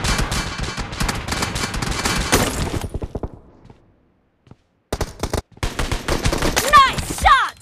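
Rapid automatic gunfire bursts in the Battlegrounds Mobile India shooter game, loud and close, broken by a brief near-silent gap before more volleys and sharp shots resume.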